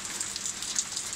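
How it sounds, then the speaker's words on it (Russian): Steady rain pattering on leaves outside a slightly open window, a dense, even hiss with small drop ticks throughout, no voices. "О, опять подусилился дождик."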